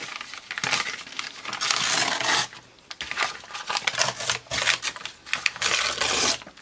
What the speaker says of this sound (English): Tear off this great piece here.